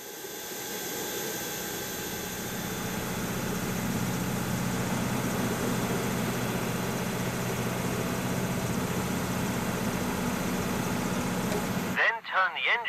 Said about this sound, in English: The APU is now fully operational.